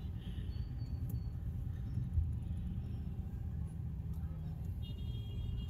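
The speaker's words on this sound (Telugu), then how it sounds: "ఫుల్ ట్రాఫిక్ ఇంకా ఎదర." Heavy road traffic on the route to Manginapudi beach during the Masula Beach Festival makes a steady low rumble of idling and creeping vehicles, continuous and moderately distant, with a faint horn or two above it.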